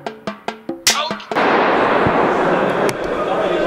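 Sharp gunshot-like bangs on a film set, a quick run of four evenly spaced cracks followed by a louder blast, then a dense wash of noise through the rest.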